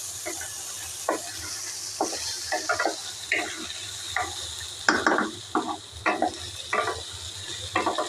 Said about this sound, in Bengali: এবার আমি চাউলটা ভেজে নিব